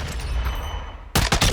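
SCAR rifle gunfire in Call of Duty Modern Warfare II: a rumbling lead-in followed by a rapid burst of loud, close shots near the end.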